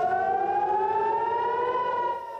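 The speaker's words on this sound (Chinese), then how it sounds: "以色列第二大城台拉维夫空袭警报再度大响。" An air raid siren wails in Tel Aviv, a loud, sustained tone rising slowly in pitch, then easing slightly as it fades at the end, with no voices.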